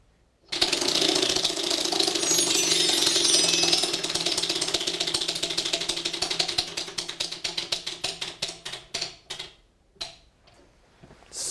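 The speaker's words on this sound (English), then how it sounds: "Go ahead and spin the wheel for us." A prize wheel on a school quiz show spins with a rapid clatter of ticks that gradually slow and space out into separate clicks before it stops.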